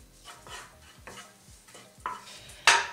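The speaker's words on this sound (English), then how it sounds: "What I'm gonna add to it is first the paste of the garlic that we just made, and then mix it all very well" Garlic paste stirred into onions sautéing in a pan for a vegetarian Polish sour rye soup (żurek): a quiet sizzle under a series of rhythmic spoon strokes, ending in a louder scrape, with no voices.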